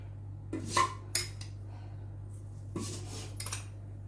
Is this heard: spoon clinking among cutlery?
yes